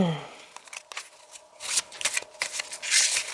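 Tarot cards being shuffled by hand, several quick riffling bursts growing louder toward the end, close and crisp, after a brief spoken phrase.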